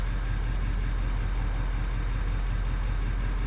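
A Ford Powerstroke 6.4L diesel pickup idles with a steady, unbroken low drone and hum that stays even and fairly close, with no one talking.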